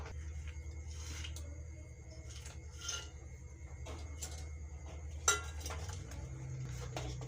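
Coconut, almonds, cashews, raisins, cardamom and powdered sugar being stirred into kheer, heard as soft, close scraping and rubbing strokes against a bowl, faint over a low steady hum, with one sharper knock.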